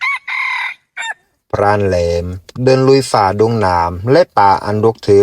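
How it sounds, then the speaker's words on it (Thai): A red junglefowl crows in a forested jungle at dawn, a single loud, drawn-out call at the start, then someone narrates steadily over it. "เสียงไก่ป่าขันแววอยู่ไกล"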